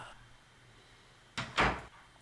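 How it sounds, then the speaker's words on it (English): A door opening in the Western video game DUST: A Tale Of The Wired West, heard as a brief soft scrape followed by a louder swishing curtain-like rustle, alone over quiet background. "It just kind of opened."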